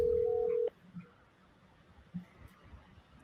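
A single telephone dial tone, steady, opens and cuts off abruptly, leaving faint room noise and low murmur behind as a call to a friend is placed.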